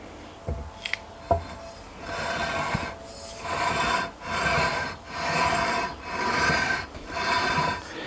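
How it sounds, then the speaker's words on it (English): Fret leveling on a scratch-built guitar: a StewMac leveling beam with 320 grit paper drawn lengthwise over the frets, giving repeated rhythmic rasping strokes of about a second each, close and moderately loud, after a couple of light knocks. "I've got my StewMac leveling beam. I got 320 grit on one side and 220 on the other. I'm just going to start with the 320."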